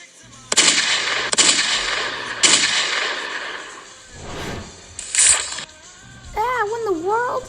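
Several sharp bursts of toy gunfire in a stop motion action scene, loud and spaced irregularly, with voices and cartoonish sound effects around them.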